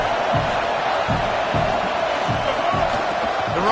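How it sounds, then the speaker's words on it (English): A stadium crowd at a Clemson college football game, a dense, steady roar that holds loud throughout, with faint rhythmic thumps pulsing underneath. "Listen to this crowd just shaking the girders of this place"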